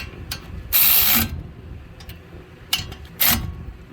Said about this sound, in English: these are 17mm bolts, so we're going to snug them in